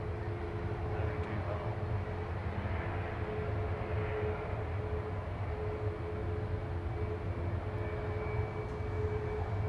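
A British Airways shuttle Airbus A320 leaves Manchester Airport bound for Heathrow, its engines a steady, broad roar from a distance with a faint sustained whine riding over the continuous rumble throughout, no voices heard.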